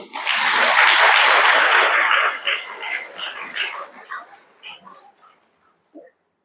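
An audience at a spiritual gathering bursts into loud, dense clapping that holds for a couple of seconds, then thins into scattered claps and trails away to a final few.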